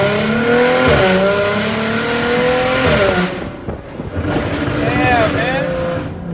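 Loud exhaust note from a straight-piped, catless Jaguar F-Type, droning and revving in sustained rising and falling pulls close by, with a dip in the middle before it revs up again.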